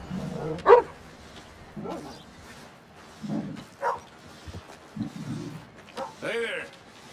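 Dog barking in the video game Red Dead Redemption 2, a few scattered barks and yips spread across the scene, mixed with people talking.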